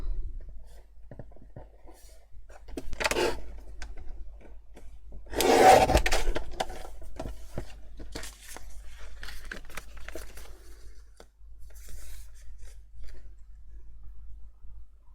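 Colourful paper is cut for Halloween paper-bag treat pouches, with intermittent rustling, scraping and crinkling over a quiet steady hum and one louder burst of paper handling midway.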